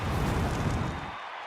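A roaring arena crowd cheers in the WWE 2K26 wrestling video game, a dense, loud and steady wall of noise that eases slightly near the end.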